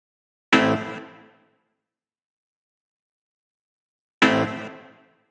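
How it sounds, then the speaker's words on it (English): Two punchy rave stab synth chords from a raw techno track hit alone, about three and a half seconds apart, each loud and bright and fading quickly into silence. "From there, we have this Rave stab, which sounds like this."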